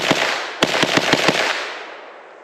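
A Grand Power Stribog SP9-A3 9mm braced pistol fires a quick burst of about six or seven rapid, loud shots over a second, followed by a trailing echo that dies away.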